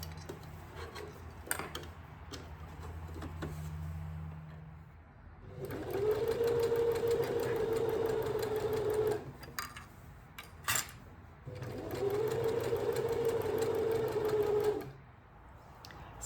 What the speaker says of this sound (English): now I'm going to add gathering stitches to the top of my skirt, and then I will sew the pocket in place